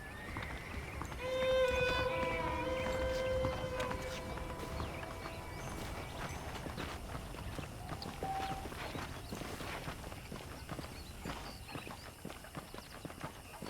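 Hooves of a saddled horse clip-clop in a steady rhythm on a dirt street in the western video game Red Dead Redemption, quiet and continuous beneath soft background music notes.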